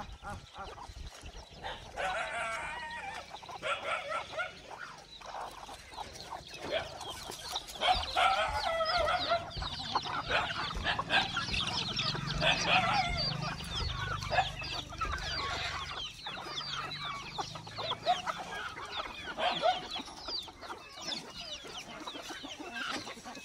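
Free-range desi village chickens on a farm, kept around a cow and buffalo shed, cluck and chatter steadily for over twenty seconds, several birds overlapping at moderate distance, with an occasional louder call standing out from the flock.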